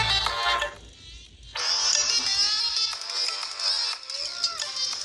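Tinny music plays from a smartwatch speaker, melodic and bright, with a brief drop partway through; no one speaks.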